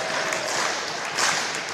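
Volleyball JV team on their feet clapping in a high-school boys volleyball gym at match point, a steady wash of applause in the background with no clear voices.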